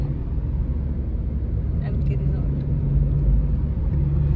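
A car is driven along a road in Kangra, Himachal, with a steady low engine rumble and road noise heard from inside throughout, while people talk over it.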